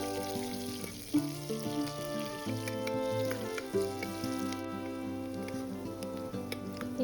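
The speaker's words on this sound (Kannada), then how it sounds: "ಕಟ್ ಮಾಡಿ ಇಟ್ಕೊಂಡಿರೋ ಈರುಳ್ಳಿ ಹಾಕ್ತೀನಿ. ಹಾಕ್ಬಿಟ್ಟು ಸ್ವಲ್ಪ ಬ್ರೌನ್ ಕಲರ್ ಬರೋವರೆಗೂ ಫ್ರೈ ಮಾಡ್ಕೊಳ್ಳೋಣ" Chopped onions frying in a pan with mustard seeds, cumin and fennel for a Bangalore-style veg biryani, a steady soft sizzle and crackle heard close, with tonal background music playing over it.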